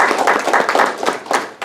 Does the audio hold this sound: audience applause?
yes